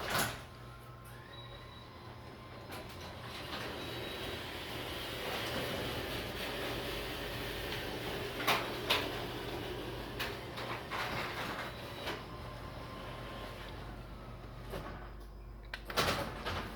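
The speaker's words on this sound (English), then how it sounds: "here's our garage door, so just listen. Getting jammed up again." Jammed garage door grinding and dragging as it opens, a long continuous rumble with scraping and a few sharp knocks and clanks near the end.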